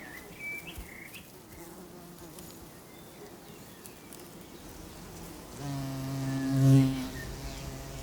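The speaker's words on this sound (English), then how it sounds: "This new arrival looks like a bumblebee, but it's a bumblebee hoverfly." A low insect buzz hums near the end, a hoverfly droning steadily for a few seconds and swelling louder before easing off, over quiet outdoor background.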